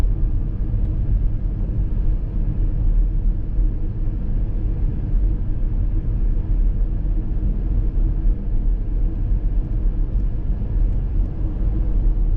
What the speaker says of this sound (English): A significant level of traffic congestion was observed along University Boulevard through the Rice Village area